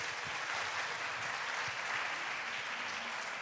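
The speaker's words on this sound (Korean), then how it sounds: "르 야마자키 선생님께 다시 한번 박수 부탁드립니다." Sustained applause from an audience at a global leaders' dialogue event, a steady dense patter of many hands clapping throughout, moderately loud and continuous with no voices on top.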